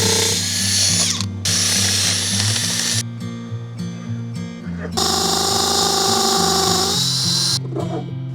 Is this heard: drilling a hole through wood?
yes